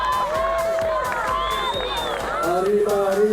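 A crowd at a youth lead climbing final in Noumea shouts and whoops to urge on a tired climber, a continuous swell of cheering voices throughout.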